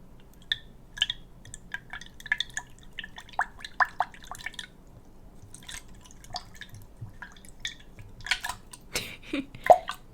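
Water sloshing and dripping from a drinking cup, rendered as a string of crisp close-up drips and small liquid clicks, irregular and soft, building to a few splashier sips near the end in a quiet room without speech.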